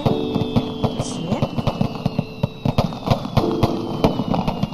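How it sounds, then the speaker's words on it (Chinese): Fireworks set off for a woman in old Bianjing crackle and pop in a steady run of sharp bursts, with a thin whistling streak overhead, while voices speak beneath the repeated bangs. "那这烟花还继续吗？"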